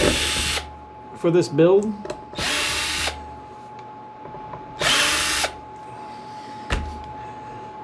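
Power screwdriver backing screws out of a guitar's cavity cover: three short, loud whirring bursts, separated by handling clicks, with someone speaking between them.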